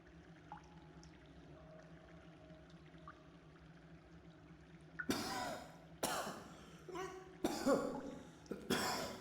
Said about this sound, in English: we have a coughing man